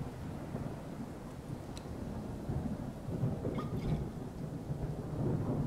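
Rain falls in the video game Fargone, a steady dense wash of rainfall with a low rumbling undertone that swells slightly toward the end; no one speaks.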